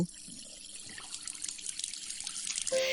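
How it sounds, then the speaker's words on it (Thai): Tap water runs steadily in an audio drama scene, a continuous hissing splash that stays close and even before a brief change in the flow at the very end, with no voices. "เธอเปิดก๊อกน้ำให้ไหลผ่าน"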